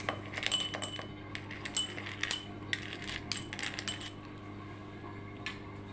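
Ice cubes clink and rattle into a glass for orange juice spiced with black pepper, quiet scattered tinkles spread over a few seconds with nobody speaking.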